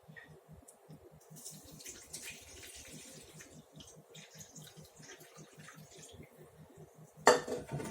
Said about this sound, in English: I'm going to add to that 1 cup of warm water.